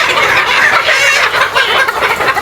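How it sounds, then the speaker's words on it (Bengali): Frightened chickens clucking and squawking during vaccination, a dense, loud, continuous chorus of close-up agitated calls from many birds with no pauses. "মুরগিগুলো ভয় পাচ্ছে ভ্যাকসিন দিচ্ছে তো"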